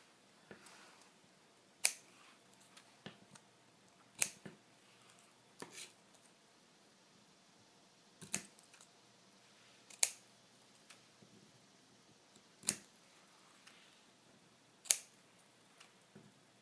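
Scissors cutting apart printed paper words for an index card, a sparse series of sharp snips spaced a second or two apart against near silence.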